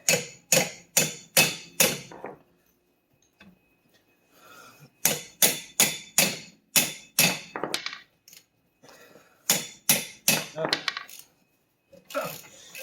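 A knurled washer bolt breaks free on the brake of a Volkswagen MK7 Alltrack, giving sharp, close metallic cracks in quick bursts of four to six, separated by short pauses of ratcheting and shuffling.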